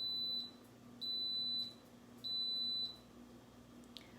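An electric pressure cooker beeps in three long, steady high-pitched tones separated by short pauses, over a faint low hum in a quiet room.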